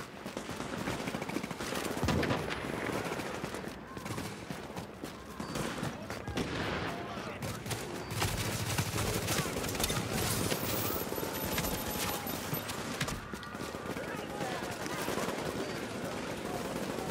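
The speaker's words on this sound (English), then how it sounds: "Yeah, sniper shooting us behind." Gunfire in The Division's Dark Zone, a dense continuous clatter of rapid shots and bursts, loud and sustained, with people talking under it.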